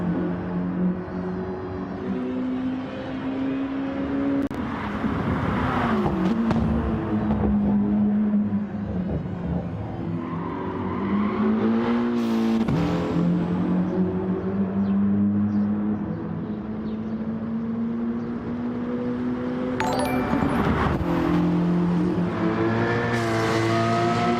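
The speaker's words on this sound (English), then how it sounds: "he'll be getting his fastest speed out of his car now" Race car engines in a racing video game drone and whine steadily, pitch climbing and dropping through gear changes, with several cars layered together and loud throughout, with no speech.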